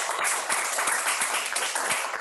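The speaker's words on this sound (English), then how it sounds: "So a round of applause for you." A room full of people clapping, dense and steady applause that stays loud and even throughout without any voices.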